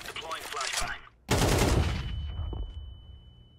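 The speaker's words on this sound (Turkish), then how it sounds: "Oğlum headshot sesi var ya, canımı yakıyor Berker." Counter-Strike gunfire in a competitive match, a sharp loud burst of shots followed by a heavy impact and a fading ringing tail, close and prominent.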